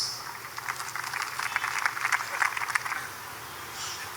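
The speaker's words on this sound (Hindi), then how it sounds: "जोरदार तालियां प्लीज" Audience applause at the Walk of Honour of the Global Peace Honours 2025 event, a burst of clapping that rises, holds for a couple of seconds and fades, with a voice near the end.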